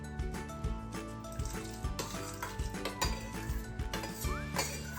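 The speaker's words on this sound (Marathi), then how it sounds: "आता त्याच्यामध्ये आपण कलिंगड टाकून देऊ" Small seeded watermelon pieces being added to a glass of cold sherbet, with repeated light clinks and taps of a spoon against glass and a soft wet plopping in a steady, close rhythm.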